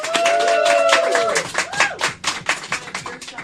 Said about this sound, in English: Everybody, let's hear a round of applause.